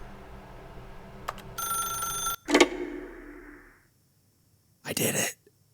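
A desk telephone in the video game The Stanley Parable rings in bursts and is then picked up, with sharp handling clicks in the middle and a final loud burst near the end, set against a steady low hum.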